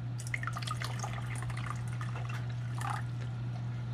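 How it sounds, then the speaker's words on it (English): Water drips slowly through an acclimation drip line into a coral container, soft irregular drips over a constant low hum of aquarium equipment. "let me get the drip started on at least this one"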